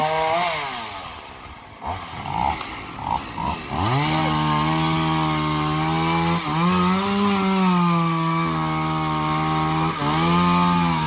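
A chainsaw cuts low into the stump of a yellow-flowered acacia or eucalyptus tree, idling and revving in short bursts before settling into a loud, sustained cutting drone with brief dips in pitch as it bites the wood.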